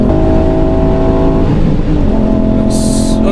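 Pumaspeed-tuned 290bhp Ford Fiesta ST Mk8 with a 3-cylinder engine running on a race track, a loud, steady engine drone holding high revs throughout with a brief dip in pitch midway, close and continuous.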